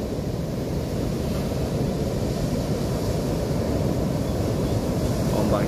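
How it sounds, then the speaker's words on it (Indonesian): Ocean surf at Rancabuaya beach in Garut, West Java, at high tide, a continuous loud roar of breaking waves mixed with wind buffeting the microphone, steady throughout with no voices. "Ombaknya sedang pasang."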